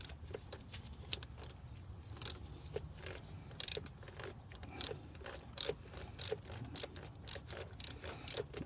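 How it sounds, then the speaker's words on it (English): Ratchet wrench working on the thermostat housing bolt of a 2007 Chrysler Pacifica, producing repeated quick clicking bursts in an irregular rhythm, close but fairly quiet against a low background rumble. "Ratchet back on."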